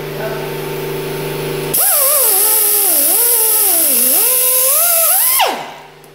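A power tool whines loudly through a ball joint bushing on a Ford Explorer Sport Trac, its pitch wavering and dipping under load for several seconds before spinning down, with no one talking.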